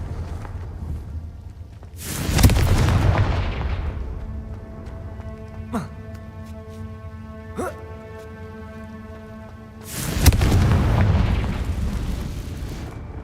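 Two heavy blasting-spell explosions from the game Hogwarts Legacy, each a loud booming burst with a rumbling tail, separated by several seconds of ringing tonal effects and quieter spell sounds.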